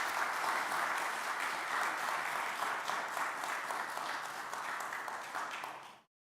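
A church hall audience at a human trafficking awareness event, with First Lutheran women present, gives dense, sustained applause that holds steady and then cuts off abruptly.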